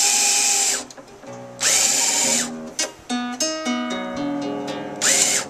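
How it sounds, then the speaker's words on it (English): A power drill fitted with a string winder spins to wind a classical guitar string, its motor whining in several short, high-pitched bursts, with plucked string tones ringing out between them. "now I'm going to wind this on with my handy dandy winder"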